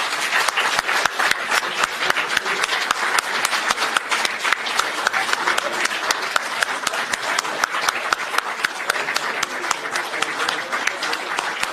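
A studio audience bursts into sustained applause to greet a footballer from the Ararat-73 team, dense clapping filling the room steadily from start to finish with no voices on top.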